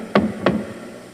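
Two thumping knocks sound as an effect in a Halloween nursery rhyme about a goblin in the house, sharp and close, about a third of a second apart over a steady background hiss.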